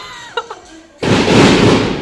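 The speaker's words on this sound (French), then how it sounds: "C'est l'heure des pétards et des feux d'artifice apparemment." A couple of sharp pops, then a sudden loud, sustained roar of crackling firecrackers and fireworks on Chinese New Year's Eve in China that fills the rest of the clip.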